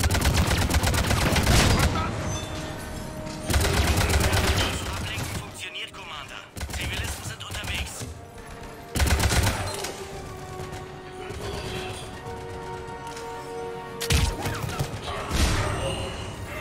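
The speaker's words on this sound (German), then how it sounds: "die knallen die Zivilisten einfach ab" Repeated bursts of automatic gunfire from the Mass Effect 3 video game, loud and dense across the clip with rapid machine-gun volleys, separated by short lulls and a few heavy thuds.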